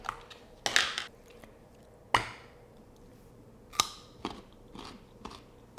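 Crunchy snap peas and carrots dipped in hummus are bitten and chewed close up, giving several sharp crisp crunches spaced a second or so apart, with softer chewing in between and no talking.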